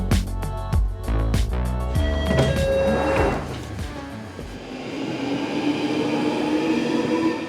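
A London Underground Northern line train to Totteridge and Whetstone rattles and clanks along the track, wheels knocking rhythmically, then settles into a steady loud rushing roar as it speeds through the tunnel.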